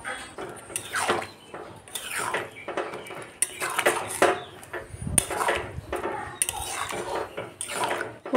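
Spiced ghugni with freshly ground garam masala being stirred in a pot, with repeated close scraping and clattering of a spoon against metal in an uneven rhythm throughout.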